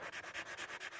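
A dry Sharpie marker scratches across paper in quick, rhythmic back-and-forth strokes, close and fairly faint, about ten short rasps in a second.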